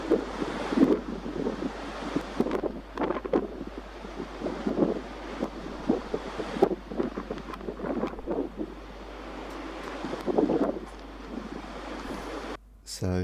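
Strong Force 7 wind buffeting the microphone in steady gusts at St Catherine's Oratory, with a faint rushing background; no clear speech.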